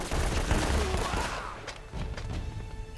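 Gunshots in Uncharted: Drake's Fortune, a loud burst of heavy pistol shots with booming impacts, followed by a few sharper separate cracks as the din thins out.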